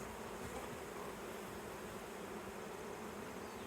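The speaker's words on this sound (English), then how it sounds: "We have Italian bees," A swarm of Italian honey bees drones in a dense, steady buzz that holds at an even level throughout, with no voices over it.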